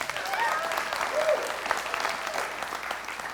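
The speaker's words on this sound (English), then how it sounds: "Now you can applaud that." A church congregation applauds, a broad sustained wash of many hands clapping at steady volume, with faint voices and cheers mixed beneath.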